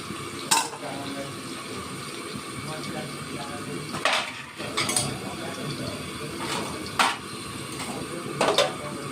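Potato pieces frying in a pan for a pabda fish curry with potato and eggplant, a steady close sizzle with occasional utensil scrapes and clinks against the pan.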